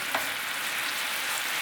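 Pork chop juices frying in a pan while being stirred, a close, steady, hissing sizzle that stays level throughout.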